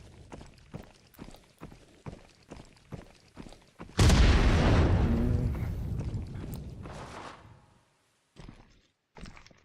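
In the ExfilZone shooter game, a thrown grenade bursts with a loud, sudden blast that rolls off into a long fading rumble, preceded by a run of quick footsteps and followed by brief thuds after a short silence.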